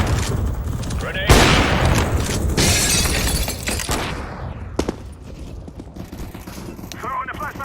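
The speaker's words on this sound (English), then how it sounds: "Grenade!" A grenade bursts in Counter-Strike: Global Offensive: a sudden loud blast followed by a long crackling, rumbling tail among scattered gunfire, with voices talking over the noisy combat.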